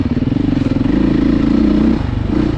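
A Beta enduro motorcycle fitted with traction control and an automatic clutch is ridden hard, its single-cylinder engine pulsing loudly and rapidly up close with a clattering rasp, dipping briefly before picking up again.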